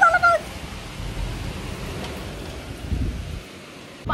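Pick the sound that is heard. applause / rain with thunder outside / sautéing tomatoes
rain with thunder outside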